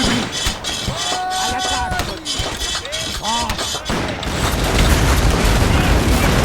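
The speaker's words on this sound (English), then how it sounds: "The cannons are still live. Keep firing, man." Cannon fire in a Napoleonic war video game battle at Borodino, heavy booms and thuds layered over a dense battle din, growing louder and denser in the second half, with voices talking over it.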